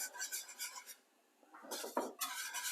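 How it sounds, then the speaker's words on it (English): A whisk scrapes and taps around a bowl of jerk macaroni pie mixture with mixed cheddar and spicy jerk seasoning, in quick bursts of clinking strokes with a short pause midway. "I'm gonna go ahead and whisk."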